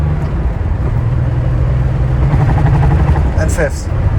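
A 1986 Porsche Turbo-look Targa engine drones steadily in fourth gear, a loud continuous low rumble with a brief rising whine near the end.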